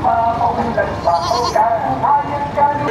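Goats bleating repeatedly amid a livestock market crowd in Padre Garcia, Batangas, with the animals' cries mixing with steady nearby chatter and general market noise.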